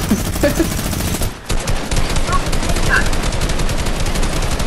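Minigun firing in a video game, a dense, continuous rapid stream of shots, loud and close, briefly pausing before resuming the sustained burst.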